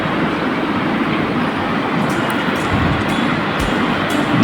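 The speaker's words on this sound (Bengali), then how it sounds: "কতক্ষণ আগে ট্রেন গেল।" Train rumbling steadily past at the Juran railway level crossing, a continuous loud roar with faint wheel clatter throughout and no one speaking.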